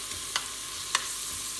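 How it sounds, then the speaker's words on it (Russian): A spoon stirs tomato paste into vegetables in a pot for pea soup, with a few short scraping strokes over a soft steady sizzle, close and without talk. "Я буквально размешаю эту пасту"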